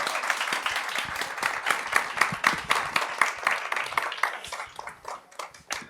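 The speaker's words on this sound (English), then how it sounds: "Ivana Miszkowicz, big round of applause." Conference audience applauding a speaker at a women's agrifood summit, dense rapid clapping that swells and stays loud for several seconds before thinning slightly at the end.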